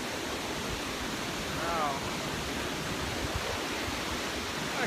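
Water runs in a stream beneath a hiking-trail bridge on Algonquin's Highland Backpacking Trail, a steady, broad rushing wash that fills the whole clip, with a brief exclaimed word over it.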